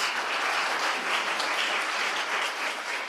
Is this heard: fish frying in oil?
no